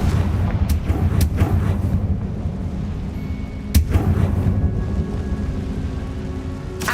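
Blasting spell impacts in Hogwarts Legacy, with several sharp explosive cracks and booms over a rumbling, rain-like background of game ambience.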